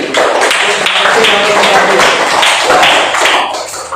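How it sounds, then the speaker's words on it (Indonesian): A class of students applauds a classmate who has just answered, steady clapping filling the room at a loud, even level for the full stretch, with faint voices mixed in. "kasih aplaus untuk temannya yang sudah menjawab tadi"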